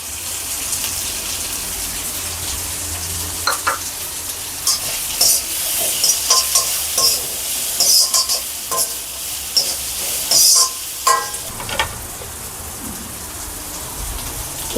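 Ingredients for tomato rice fry in a pan with a loud, continuous rain-like sizzle, and intermittent clinks and scrapes of stirring cluster through the middle; nobody talks.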